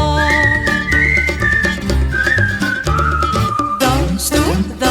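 Bright, sustained melodic whistling carries the tune of a Greek laïko folk song, loud and continuous over the full instrumental accompaniment.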